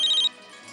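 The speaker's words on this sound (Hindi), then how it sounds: "अरे उसी का फोन होगा" A phone ringtone sounds in a short electronic burst of repeating high tones, fairly faint, then cuts off into quiet room tone.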